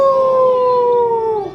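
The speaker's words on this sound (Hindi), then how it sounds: "फिर कुत्ते भौंके," A single drawn-out canine howl holds a steady tone and then slides downward at the end. It is loud and close, alone, with no talking.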